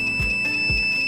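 An Arduino fire detection system's buzzer alarm sounds with a steady, piercing high electronic tone, pulsing in a regular beat twice within about a second, loud and continuous.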